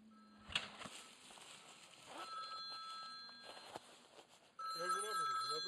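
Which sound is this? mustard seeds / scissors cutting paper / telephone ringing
telephone ringing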